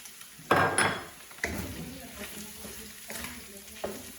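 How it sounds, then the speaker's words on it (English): Carrots drop into a hot frying pan and start sizzling, with a loud initial hiss followed by steady frying crackle and a few scraping stirs against the pan, close by. "I'm gonna add the carrots so that they're not pre-cooked"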